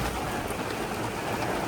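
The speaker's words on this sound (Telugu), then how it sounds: "వాన చూడు ఎట్లా పడదు" Steady rain pours down in an even, dense hiss with a faint patter throughout, close and continuous, with no talking.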